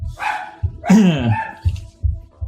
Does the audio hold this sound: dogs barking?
yes